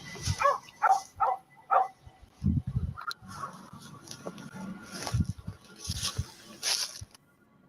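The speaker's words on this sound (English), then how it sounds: "hearing the neighborhood dogs going crazy over something" Neighborhood dogs bark at night, a quick run of four sharp barks followed by scattered distant woofs, whimpers and yaps at varying distances, with some rustling and thumps between them.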